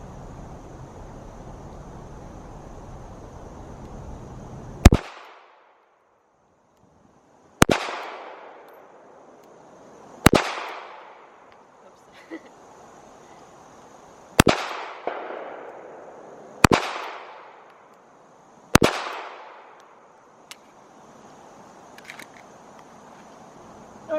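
Six sharp gunshots from a Bodyguard 2.0 .380 pistol at an outdoor target range, each a loud close crack with a short decaying ring, spaced a few seconds apart with quiet gaps between.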